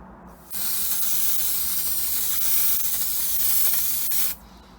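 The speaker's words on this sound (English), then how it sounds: "let's give it a quick spray." A single sustained spray-paint-can hiss while repainting a narrow gauge railway carriage, close and steady, starting abruptly and cutting off after about four seconds.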